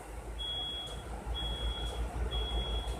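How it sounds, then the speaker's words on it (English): A smoke alarm beeps in three long, steady high-pitched tones, each about half a second, evenly spaced over a low background rumble. "Fire alarm, fire alarm."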